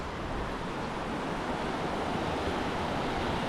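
Moderate sea waves at Chaweng Beach on Samui wash in as a continuous broad surf roar, with some wind noise on the microphone and no voices.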